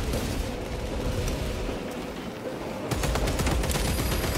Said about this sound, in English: Yo, what are you shooting at me